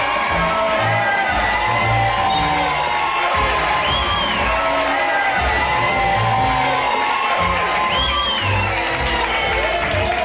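A large theme park crowd at Splash Mountain cheers, whoops and shouts continuously, loud and close, with children's yells mixed into the sustained roar.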